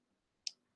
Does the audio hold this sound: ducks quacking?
no